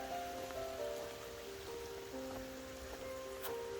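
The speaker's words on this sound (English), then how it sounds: "There's a little water trickle going into it too." Water trickles quietly into a backyard pond near a creek, a faint, steady splashing with small drips and outdoor hum, with no voices.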